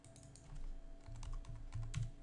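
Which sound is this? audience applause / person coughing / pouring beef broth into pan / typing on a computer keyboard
typing on a computer keyboard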